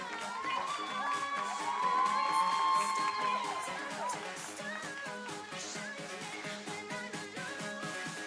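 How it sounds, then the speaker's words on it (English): Audience at the 2019 Elite Miss Earth USA beauty pageant applauding and cheering as contestants are called to the top 15, a steady crowd roar with whoops and shouts over background music. "Keep that applause going for"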